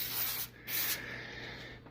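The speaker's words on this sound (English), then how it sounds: "we're going to spray it down with some no-stick cooking spray" No-stick cooking spray hisses onto a cookie sheet in two sustained aerosol bursts separated by a brief pause, close and fairly loud, with no talking.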